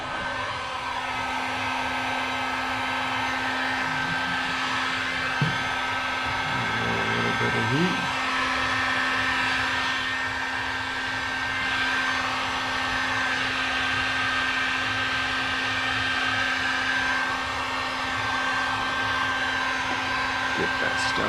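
A heat gun blows steadily at close range while warming vinyl graphics on a Can-Am Renegade ATV, a continuous whooshing roar with faint handling noises and brief speech beneath it.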